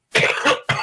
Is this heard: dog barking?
no